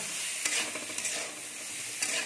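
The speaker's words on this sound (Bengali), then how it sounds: "ওইদিকে মাছ ভাজা চলছে বন্ধুরা" Rohu fish pieces fry in a pan, a steady close sizzle with a few brief sharp crackles and spatters, loud and alone without voices.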